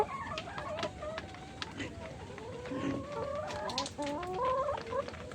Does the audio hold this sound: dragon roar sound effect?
no